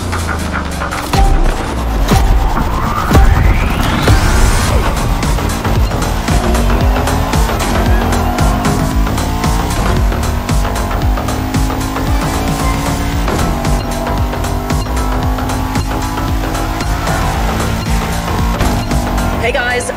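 Bugatti Veyron Barchetta hypercar driven in The Crew Motorfest racing game, engine revving and roaring loudly with gear shifts, tire squeal and impacts throughout, a voice speaking over it.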